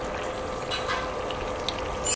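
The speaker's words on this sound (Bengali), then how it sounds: "পিঠাগুলো কিন্তু একদম লাল লাল করে ভাজতেছি" Jaggery pitha cakes fry in hot oil in a wok with a steady close sizzle and a few faint clinks, cutting off abruptly.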